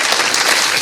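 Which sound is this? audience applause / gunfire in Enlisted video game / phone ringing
audience applause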